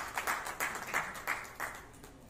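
Applause for Chiranjeevi Sahu at the Pratibha Samman award ceremony 2023, faint and somewhat distant, heard as rhythmic, evenly spaced clapping over a quiet background.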